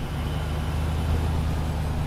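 A Hemi-powered vehicle hauling a heavy off-road trailer, its engine a steady, low, loud drone heard from close inside, with no change in pitch over the short stretch and no voices.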